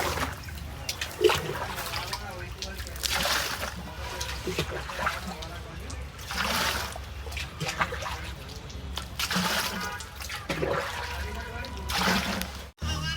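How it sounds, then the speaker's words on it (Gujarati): Water pouring and trickling into a container in bursts, with people talking nearby over the running water. "આપણે પીવાનું પાણી ભરી દેવું"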